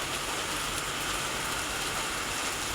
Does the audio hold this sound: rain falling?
yes